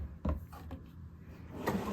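Hotel room drawer at a Hampton by Hilton in Dusseldorf, quiet: a couple of soft wooden knocks and a slide as it is pulled open, with a final thump near the end.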